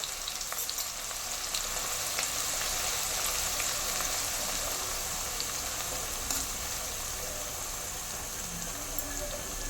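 Chopped shallots fry in hot oil for a Kerala-style ginger curry, a continuous dense crackling sizzle with scattered pops, steady and close throughout.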